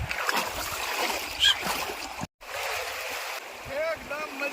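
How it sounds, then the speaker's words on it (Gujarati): A strong, swollen river current rushes steadily along during an outing, with a continuous watery roar close by and voices talking over it. "આખી નદીમાં પાણી છે આજે અને મસ્ત કેટલું જોરદાર પાણી આવે છે."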